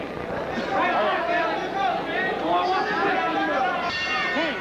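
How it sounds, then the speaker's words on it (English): A boxing bell clangs near the end, closing the second round of a professional bout, over steady crowd chatter and murmuring voices in the arena. "The bell ending round 2"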